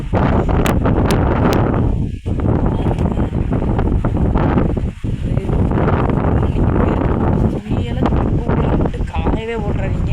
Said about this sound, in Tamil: பாருங்களேன் எப்படி காற்று விடாமல் அடிச்சுட்டே இருக்குது பாருங்க